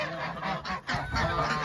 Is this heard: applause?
no